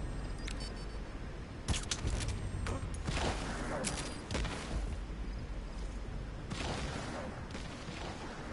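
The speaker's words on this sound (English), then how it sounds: "Secure the area before you detonate the C4." A C4 charge detonating in the video game Metal Gear Solid V, heard as several loud booming blasts and crackling bursts spread over the stretch, with a dense roar of game noise running underneath throughout.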